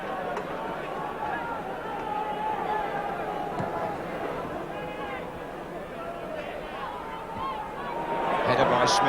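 A partisan football crowd at Hillsborough for Sheffield Wednesday against West Ham in an FA Cup quarter-final: a continuous distant crowd murmur that swells near the end, under a commentator's voice.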